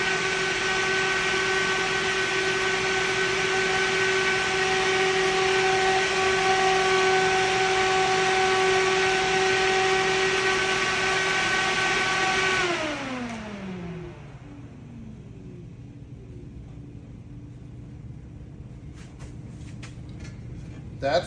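Twin upgraded radiator fans for a 1990 Eclipse GSX roar loudly with a steady whine, then spin down with a falling pitch, leaving a low fading hum.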